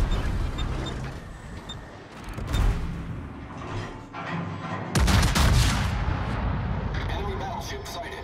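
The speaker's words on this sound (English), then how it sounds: "All stations, concentrate fire on the target." Heavy naval guns booming in World of Warships gameplay, with low rumbling blasts that swell around two and a half and five seconds amid continuous battle noise, and a voice speaking over it.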